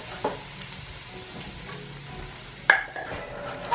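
Garlic cloves frying in a pot for a Haitian-style lasagna give a steady, close sizzle with soft stirring scrapes, and a sharp clink of a utensil against the pot near the end.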